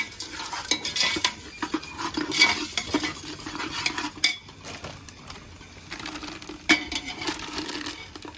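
Chili powder being stirred into a curry in a pan, with soft scraping and ladle clinks against the pan and a faint sizzle, close and fairly quiet with irregular strokes.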